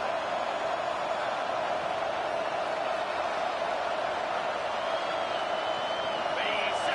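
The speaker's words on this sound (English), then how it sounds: "The stadium's loud and noisy." Loud, steady roar of a packed stadium crowd at a college football game between SMU and Washington, a dense continuous wash of noise with a commentator's voice running over it.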